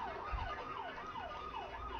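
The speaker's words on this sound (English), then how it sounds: "And oh goody, there's a siren." An emergency siren wails in Paper Mario: The Thousand Year Door, its pitch sweeping up and down in a steady repeating cycle, loud and continuous with no voices.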